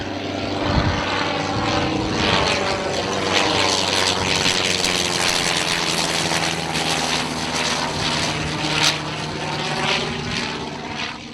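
A Sopwith Snipe WW1 biplane's 230 horsepower Bentley BR2 rotary engine drones loudly and steadily overhead, its pitch sweeping slightly as the plane passes by.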